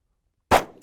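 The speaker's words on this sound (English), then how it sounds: "Yep, firing again." A Kimber Micro 9 pistol fires once after being caked and packed with dirt, a single sharp loud report after a half-second of silence, trailing into a brief decaying echo.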